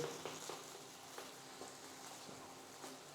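Tomato paste frying in a pan for penne alla vodka, a steady faint sizzle with soft crackles and occasional light clicks throughout.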